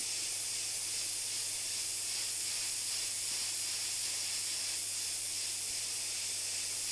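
Steady, continuous airbrush hiss of paint spraying onto the edge of a sheet of paper, soft and close, running unbroken without any talking.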